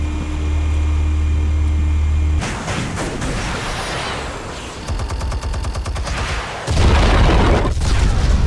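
Explosives going off in the Batman: The Telltale Series video game, a heavy boom followed by crackling blasts and rapid debris-like rattling, loud and close, ending in a low rumbling roar.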